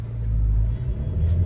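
Hyundai Creta N Line accelerating hard during a 0 to 100 run, a deep engine rumble building steadily from inside the car, loud and continuous with a brief dip midway.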